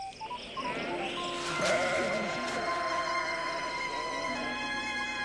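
A sheep bleats loudly and close by, one long wavering call over a steady background hum.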